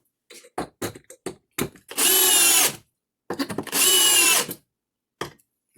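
Bosch 12V brushless drill/driver driving construction fasteners, heard as two sustained loud whirring bursts of about a second each, separated and surrounded by short clicks and handling knocks.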